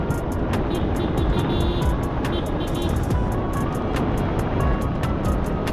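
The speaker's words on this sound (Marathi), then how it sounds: "आता या ट्रकला ओव्हरटेक करण्यासाठी बघा किती म्हणजे मागे ट्रॅफिक होऊन गेली." Steady, loud road noise from a scooter ride, a Yamaha Aerox 155, on the winding Karmal ghat mountain pass while overtaking a truck. Continuous wind and engine rumble fill the whole stretch with no talking.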